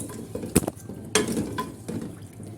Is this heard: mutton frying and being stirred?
yes